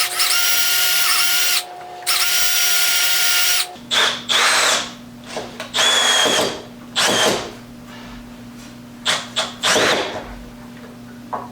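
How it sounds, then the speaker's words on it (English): A power drill pre-drills pilot holes into very hard, dense wood during farmhouse renovation work, starting with one long steady whine, then breaking into several shorter close bursts with brief pauses between them. "So I'll have to do a little pre-drilling first."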